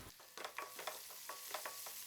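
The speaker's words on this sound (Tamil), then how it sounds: "எல்லாத்தையும் நல்லா வதக்கி விட்டாச்சுங்க." Shallots, curry leaves and turmeric sauté in a hot pan, giving a steady close sizzle broken by several soft scraping stirs over about two seconds, with no talking.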